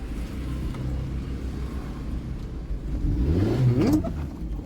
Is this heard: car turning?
yes